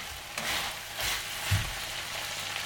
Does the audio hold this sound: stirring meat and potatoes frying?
yes